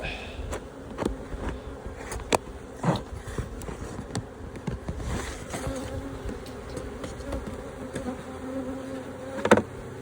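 Bees buzz steadily up close at a multi-queen micro nucleus hive, with individual insects droning past and some clicks and knocks in the background.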